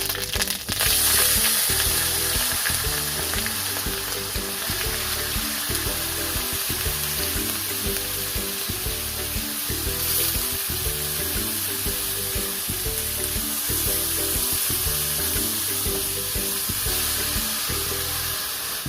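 Chopped banana stem fries in a pan with ginger paste for a banana stem curry, a loud continuous sizzle with regular rhythmic stirring scrapes throughout, no voices.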